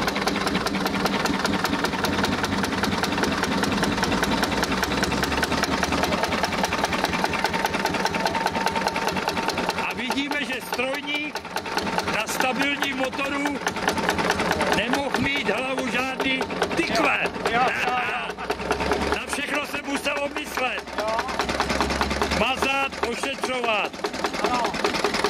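A historic tractor engine runs steadily at a ploughing show under Říp, with a rapid mechanical chugging throughout and someone talking over it during the second half.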